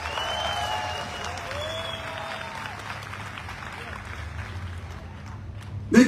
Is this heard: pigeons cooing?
no